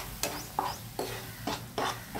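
Paneer tikka filling being sautéed in an oily pan, with a spoon scraping and stirring in about five distinct strokes over a light sizzle, moderately close and with no voices.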